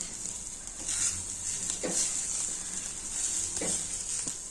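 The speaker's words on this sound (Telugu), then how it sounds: "ఇట్లా ప్రెస్ చేసి వేయించుకోండి." Ridge gourd frying in a pan, a steady bright sizzle with soft stirring and pressing sounds breaking through now and then, close and continuous without speech.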